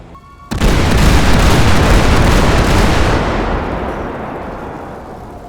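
A bomb explodes in a video game, a sudden loud boom after a brief quiet lead-in, then a long dense roaring rumble that slowly fades over several seconds with no talk.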